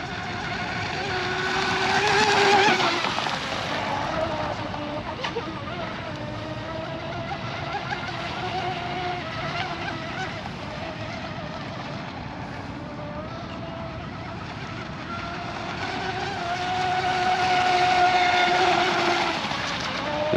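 A J&R Marine H26 RC hydroplane boat runs on water with a steady high-pitched engine whine that swells and fades as it passes, the motor note rising and falling with throttle, carrying alone without talk.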